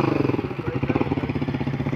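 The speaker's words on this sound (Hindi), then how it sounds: "ये रही बाइक जिस पे हम आए हैं, मैं और आरिफ भाई" A motorcycle engine running close by, with a steady loud chugging pulse of rapid, regular beats that fluctuates slightly in strength, heard alone.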